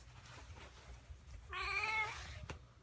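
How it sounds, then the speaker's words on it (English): A single close cat meow, drawn out and tonal, rises out of a quiet room with faint background noise. "Meow, meow, meow."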